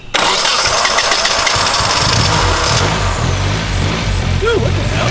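A rear-wheel-drive-converted Honda Civic with a freshly installed engine cranks and catches, then runs loudly and steadily up close, with a rough idle and a few revs.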